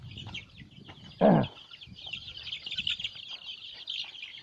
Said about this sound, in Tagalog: Mayroon po siyang inalaga ang mga manok.